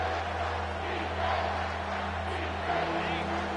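The home crowd roars at an Alabama versus Oklahoma college football game as the defense faces third down, a sustained, swelling stadium din with a commentator talking over it.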